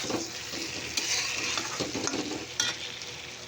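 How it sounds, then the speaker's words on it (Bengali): Eggplant sautéing slowly over low heat in a pan, a continuous close sizzle with intermittent stirring scrapes and clicks, no voices. "আর এদিকে কিন্তু বেগুনটা এখনও কষানো হচ্ছে হালকা আঁচে"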